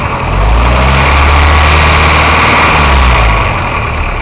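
A carbureted Dodge 2.2 engine idles close by with its air cleaner removed, giving a steady low rumble that swells slightly and holds evenly throughout, with no voices.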